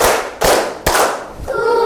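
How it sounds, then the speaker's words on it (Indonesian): Three sharp, loud hand claps spaced evenly apart in a counted classroom rhythm, close by, with no talking. "Tepuk 1. Tepuk 2. Tepuk 3."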